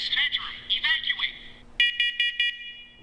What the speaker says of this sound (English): Others put out 4 beeps when they detect CO.